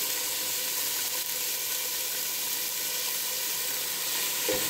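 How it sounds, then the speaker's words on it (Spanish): Chicken pieces frying in a pot for soup, a close, steady sizzle and hiss that holds evenly throughout with no talk. "Porque no es a freírlo así, que se nos selle, que quede un poquito doradito de la parte de encima"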